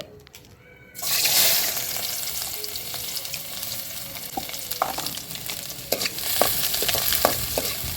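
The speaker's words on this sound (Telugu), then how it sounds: "ఇంకా నూనె అయితే కాగింది ఫస్ట్ అయితే మాత్రం ఉల్లిగడ్డలు అయితే వేసుకుందామండి" Onions drop into hot oil in a pan for a chicken wings dish and burst into a loud, steady sizzle that runs on for several seconds, with a few clinks of a spoon or utensil mixed in.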